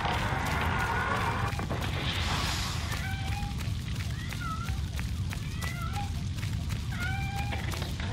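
In the audio game Papa Sangre II, a cat meows repeatedly in short, rising calls over a loud, crackling fiery background, several meows spaced across the scene.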